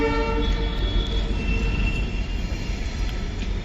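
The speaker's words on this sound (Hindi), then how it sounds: "तो भाई ये मेरे ख्याल से शंटिंग हो रही है यहाँ पे आपकी" Swarna Jayanti Rajdhani Express, train 12958, being shunted by a WDP4D diesel locomotive at a New Delhi station, giving a steady, loud rumble of rolling stock with a sustained horn-like tone running throughout.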